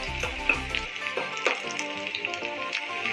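Curry leaves crackle and sizzle as they drop into hot oil for a Kerala pappadam curry, a close, steady frying hiss with small popping bursts throughout.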